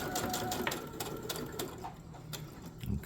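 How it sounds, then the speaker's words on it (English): A sewing machine stitches fabric in a rapid, even mechanical patter with a low motor drone underneath. It slows and stops near the end, heard up close with no talking. "I'm gonna back stitch. I'm gonna turn this again and try to get this line."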